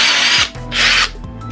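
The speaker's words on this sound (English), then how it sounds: "So you do need a drill with this particular kit." A power drill spins a Velcro sanding pad from a headlight restoration kit in two short, loud bursts of high whirring separated by a brief pause, with no voices.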